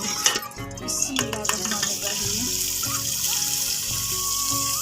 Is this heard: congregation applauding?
no